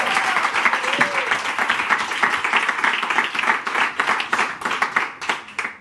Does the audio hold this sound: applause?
yes